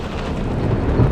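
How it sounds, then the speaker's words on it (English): Thunderstorm on a boat at sea in the video game Witcher 3: a loud, steady roar of heavy rain and rumbling thunder fills the short stretch without a break. "Didn't bargain for no storm."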